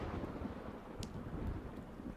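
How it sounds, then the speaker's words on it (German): A low, rolling thunder rumble in the survival game Sons of the Forest, steady and heavy throughout with a faint rain hiss and no voices. "Oh, es gewittert."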